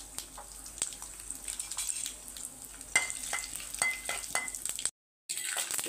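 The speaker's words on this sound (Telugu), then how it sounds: "ముందుగా కడాయిలో కొద్దిగా నూనె వేసుకొని ఇందులోకి పోపు దినుసులు వేసుకుందాం" Tempering spices frying in a little oil in a kadai, a soft continuous sizzle dotted with small crackles and stirring clicks, close but quiet, with a brief gap near the end and no voices.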